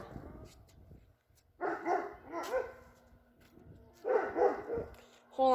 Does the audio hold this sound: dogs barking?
yes